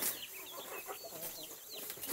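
European breed chickens, French and British types, giving soft, scattered clucks and chirps at a moderate distance, faint over a quiet background with no talk.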